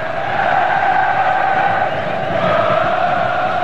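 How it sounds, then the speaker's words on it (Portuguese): Corinthians supporters in a packed stadium during a 2002 Brazilian league match against Fluminense, a loud sustained wall of chanting and shouting from a massed crowd, steady and unbroken throughout. "não para um minuto o torcedor do Corinthians, né, com o time no ataque, né, eles ficam ali pulando e gritando o tempo inteiro"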